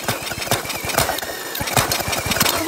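Someone tries to start a go-kart engine with a drill, giving a loud, rapid mechanical rattle of pulsing strokes close by and continuous for nearly three seconds.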